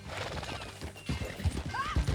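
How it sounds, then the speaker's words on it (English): Horse hooves clip-clop with a short whinny in the Western video game Red Dead Redemption II, a few hoof thumps near the end, mid-level under faint background ambience. "That new horse?"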